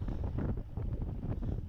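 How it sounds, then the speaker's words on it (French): Headwind buffets the microphone of a rider in a category A and B bicycle race at Ormeignies. The roar is low, heavy and continuous, close and gusting throughout, with no voices. "Donc là, vent de face."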